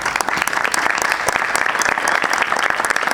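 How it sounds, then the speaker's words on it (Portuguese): Applause from a theatre audience fills the whole stretch, loud and steady, with dense overlapping claps and no voices over it. "Eu gostaria de pedir um aplauso para quem idealizou"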